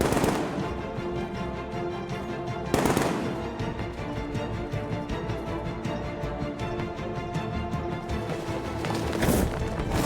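Gunfire in Batman: Arkham Knight comes as a loud, continuous rattle of rapid shots, with a couple of heavier bursts standing out.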